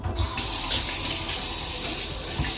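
Kitchen tap in an apartment running water in a steady rushing stream into the sink, loud and close, continuous for the whole stretch with a brief knock at the start.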